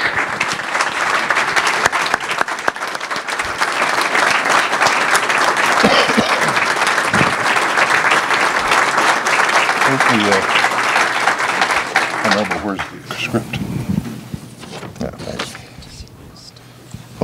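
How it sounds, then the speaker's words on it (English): Sustained, loud applause fills a city council meeting room for the retiring police chief, with voices and cheers mixed in, before it thins and fades near the end. "Let's have a round of applause for the chief."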